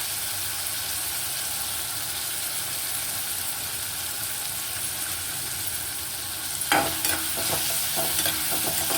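Onion and tomato sauté in a pan for a lady's finger stir-fry, with a dense, even sizzle throughout and a brief burst of scraping and stirring clatter near the end, up close with no talking.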